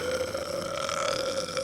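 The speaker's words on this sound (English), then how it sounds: "he bellowed out a huge burp" A troll lets out a huge, long, bellowing burp, one sustained loud belch with a steady droning tone that carries alone through the whole moment.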